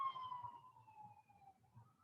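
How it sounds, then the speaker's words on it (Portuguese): An ambulance siren passes in the distance outside a room, its wailing tone faint and steadily falling in pitch, with no talk over it. "Tem ambulância passando aqui."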